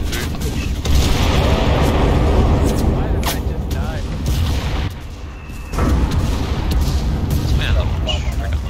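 Enemy gunfire in the World War II shooter Enlisted: a steady roar of battle noise with scattered shots and booms, rising and falling, with a player talking over it.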